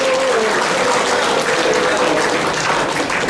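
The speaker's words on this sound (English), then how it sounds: "give a big clap for our own" Audience applause at a corporate meditation session, a dense steady clapping wash filling the whole stretch at close range, with a faint sustained tone underneath early on.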